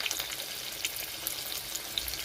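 Chicken cutlets fry in oil over a lowered gas flame, giving a steady, gentle close sizzle dotted with small pops and crackles.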